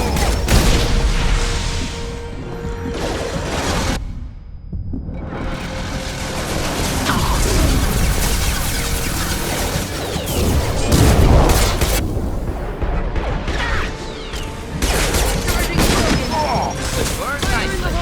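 Dense gunfire in the Mass Effect 2 video game, rapid bursts and booms piling up almost nonstop for many seconds with one brief lull, loud and close, with voices shouting over the combat.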